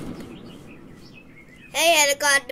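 A short, bright chirping bird call from a video game, two bursts near the end after quieter game sounds, loud and close.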